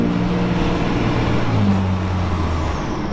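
The engine of an 850 horsepower heavy recovery truck drones loud and close, a steady deep rumble with a faint high whine above it.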